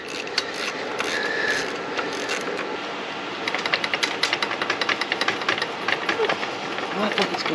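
A hand ratchet clicks in quick bursts while loosening an 8mm Allen bolt on a 2007 Yamaha TW200 motorcycle engine, close and crisp over a faint background hum.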